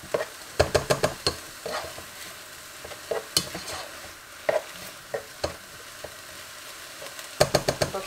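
Onions frying in a pan give a steady sizzle, broken by sharp clinks and scrapes as a spoon stirs them, in bursts with quieter gaps between; close and fairly clear, with no talking.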